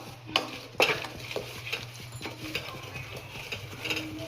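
A spoon stirs jaggery melting in a pan for avalakki laddu, with steady scraping strokes and a few sharper clinks over a low, continuous background hum.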